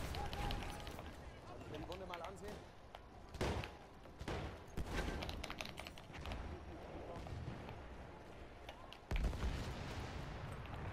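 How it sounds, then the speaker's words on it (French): Bursts of gunfire and heavy booms ring out in Battlefield 1 near a train. A player talks excitedly in French underneath the shooting. "on est en train de se faire tirer dessus pour le train"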